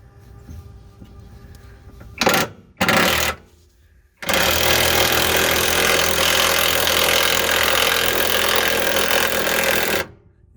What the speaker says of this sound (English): Dad's up top with the impact wrench.